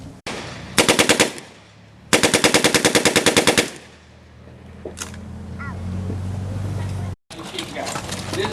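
A WW2 automatic weapon, fed from a 32-round box magazine, fires two loud, rapid full-auto bursts at a reenactment, each about a second long. Afterward comes a lull of murmuring and background noise, then a brief sharp gap.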